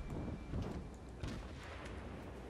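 Naval guns fire in the World of Warships video game, with a deep, rumbling boom of artillery over a dense, constant roar of battle noise, loud and close, with no voices.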